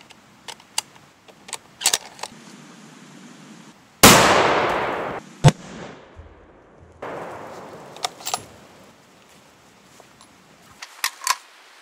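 A 7mm Remington Magnum rifle fires into thick plastic: one loud, sharp blast with a short decaying tail stands out among faint clicks and small knocks before and after it, with no talking.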